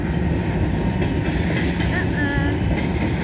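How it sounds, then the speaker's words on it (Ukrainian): A passing train rumbles loudly and steadily nearby, with rolling wheel clatter and a faint metallic squeal, filling the whole moment outdoors. "кожен раз поїзд їде."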